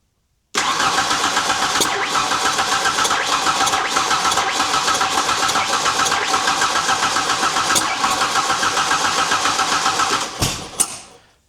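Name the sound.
Ford Ranger engine cranking and running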